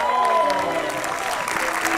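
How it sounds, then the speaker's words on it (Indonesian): An audience at an Indonesian TV comedy show applauds in a steady wash of clapping, with voices and tones running over it throughout. "tepuk tangan dulu dong"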